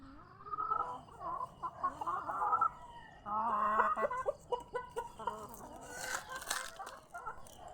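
Backyard chickens on a fruit-tree poultry farm cluck steadily and close up, with soft overlapping calls and a few rising squawks, no talking.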